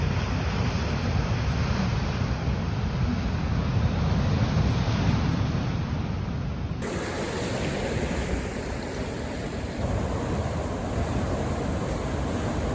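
Ocean surf rolls steadily onto Harris Beach on the Oregon coast, a continuous loud wash of breaking waves mixed with gusty wind buffeting the microphone, with no voices.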